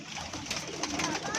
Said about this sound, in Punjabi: ਇਹ ਸਲਾਰੀ ਕਬੂਤਰੀ ਆ ਦੇਖੋ, ਉਹ ਸਲਾਰਾ ਕਬੂਤਰ ਸੀ, ਇਹ ਸਲਾਰੀ ਕਬੂਤਰੀ ਕਾਲੇ ਪੱਲਿਆਂ ਵਾਲੀ।